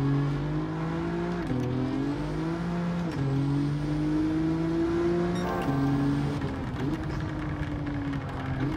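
An Alfa Romeo Giulia GTAm in Gran Turismo 7 drones steadily under throttle, its engine note rising and dipping through gear changes and lifts, loud and constant throughout with no voice over it.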